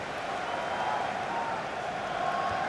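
A stadium crowd in the FIFA 16 football video game roars after a near miss on goal, a dense, sustained wash of cheering and murmur that holds steady at moderate loudness throughout.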